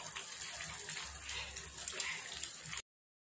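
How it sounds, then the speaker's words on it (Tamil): Egg and potato balls deep-fry in hot oil, giving a dense, steady hiss and bubbling for nearly three seconds before the sound cuts off to silence. "எண்ணெய் நல்லா பாயில் ஆன பிறகு இப்போ அந்த எக் பால்ஸ் எல்லாத்தையும் எண்ணெயில் போட்டு ஃப்ரை பண்ணி எடுங்க"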